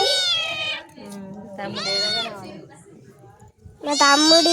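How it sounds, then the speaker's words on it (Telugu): A cat meows three times, loud and close, the calls drawn out and wavering, with short pauses between them. "ఇగో ఈ పిల్లి మరుగుతుంది బాగా"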